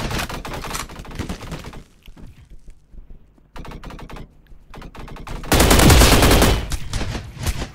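Automatic weapons fire in the shooter game Energy Assault, with rapid bursts of gunshots stopping and restarting, quieter in the middle and loudest in a heavy volley near the end.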